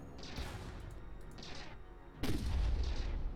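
Space battle weapons fire in the strategy game Stardrive 2, with muffled blasts and a heavier impact boom partway through. A steady rumbling background sits under the shots, and nobody talks.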